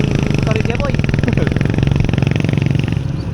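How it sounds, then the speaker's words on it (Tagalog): A motorcycle engine chugs in a steady pulsing rhythm while riding on a slippery, rain-soaked road, loud and close throughout, with voices talking briefly over it. "palaban yung motor ni Jeboy"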